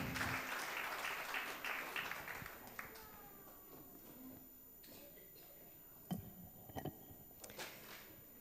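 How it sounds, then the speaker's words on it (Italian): An audience at a literary prize ceremony in Olbia applauds to welcome the singers onstage, a full wash of clapping that fades after a few seconds into quieter room sounds, scattered taps and some voices. "le accogliamo con un forte applauso"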